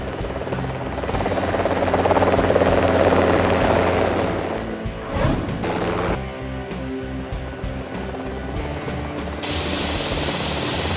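Helicopter rotor noise, loud and steady, with a broad whooshing drone that shifts partway through; no talking.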